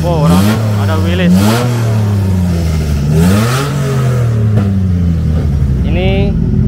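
Suzuki Jimny Long rally car with a K10 engine, built for sprint rally and offroad speed events, revving up and down repeatedly nearby, loud and throaty throughout.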